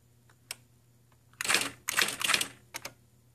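Mechanical clicks and a couple of short bursts of rapid key strikes on an IBM Wheelwriter 2 electric typewriter, close and fairly quiet, with brief pauses between.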